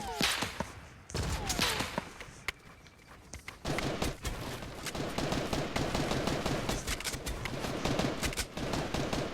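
Rapid gunfire in a first-person shooter game, including a scout sniper rifle, with sharp repeated shots cracking loudly and densely across the clip and a brief lull near the start.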